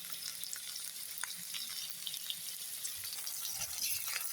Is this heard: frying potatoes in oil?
yes